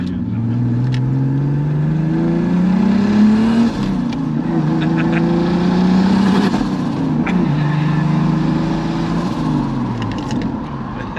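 A Volvo 940 sleeper fitted with a BMW 2.5 turbo engine accelerates hard through several gears, loud rising engine pitch dropping at each shift, heard close from inside the car with faint clicks.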